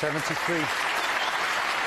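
Crowd applause fills a snooker arena, a dense, steady clatter of clapping sustained throughout while a commentator speaks briefly over the start.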